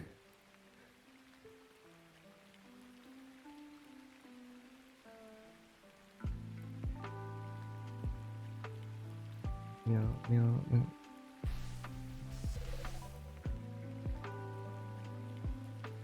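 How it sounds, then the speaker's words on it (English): Real rain falling outside: a soft, steady wash of rain in the background under louder synth-like musical tones, with a voice speaking briefly partway through. "it's just actually raining here."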